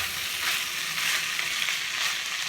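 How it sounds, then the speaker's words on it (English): Rice fries with onion and frozen cabbage in a pan, giving a steady, close, dense sizzle that holds even and continuous throughout. "I'm just gonna get that fried up."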